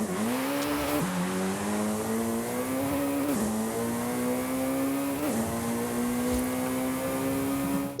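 A Jaguar C-X75 Concept hypercar engine in Forza Horizon 5 revs hard and drops between gear shifts, rising again three times in a steady cycle, loud and up close with no voices.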